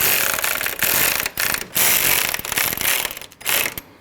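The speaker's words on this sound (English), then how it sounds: "Tighten your 2 10mm bolts." A ratchet tightens two 10mm bolts on the AC condenser cooling fan assembly of a 2012-2016 Honda CR-V 2.4L, giving loud, close bursts of rapid pawl clicking separated by brief pauses, with no voice.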